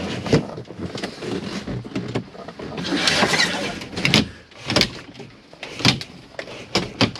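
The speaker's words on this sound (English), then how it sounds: "Pinch and slide this out, and this is how you black your passenger and driver door windows out" Magnetic blackout blinds being pinched and slid out over the driver and passenger door windows inside an Auto Trail Scout 2021 motorhome, giving repeated close sliding scrapes and soft clicks and knocks in irregular bursts.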